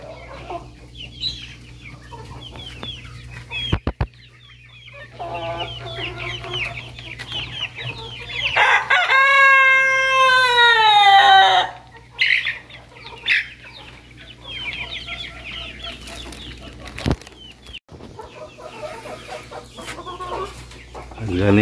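Hens and a rooster cluck nearby in a loud, busy run of calls, rising to a strained drawn-out squawk midway before settling back into scattered clucks.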